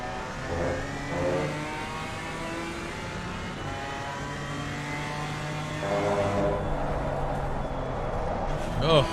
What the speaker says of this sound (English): Jacques Vermeulen putting a bunch of pressure on in the BMW